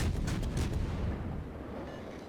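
Heavy naval gun salvos from a US Navy light cruiser, Dallas, in World of Warships: deep booming reports up front that roll off into a long, low rumbling decay.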